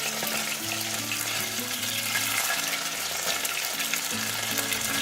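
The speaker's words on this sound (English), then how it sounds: "You have to fry it very carefully because it pop out a lot." Bata fish frying in a pan gives a loud, steady sizzle and crackle throughout, close up and with no talking over it.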